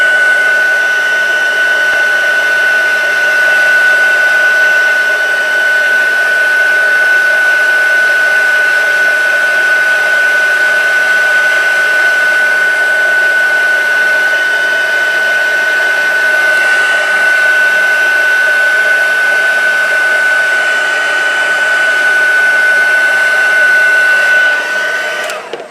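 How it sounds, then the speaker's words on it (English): A craft heat tool blows hot air steadily onto Shrinky Dink shrink plastic, a loud continuous whirring hiss with a fixed whine that runs unbroken and alone from start to finish. "So my heat tool on, and I'm going to start heating it."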